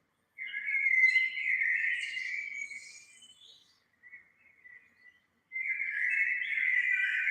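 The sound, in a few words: birds singing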